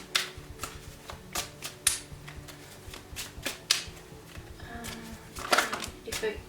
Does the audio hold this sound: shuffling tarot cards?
yes